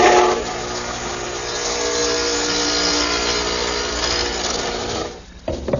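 A radial arm saw fitted with a dado head cutter narrowed to 3/8 inch cuts dados in wood, a loud, steady machine whine with cutting noise lasting about five seconds before it drops off and spins down.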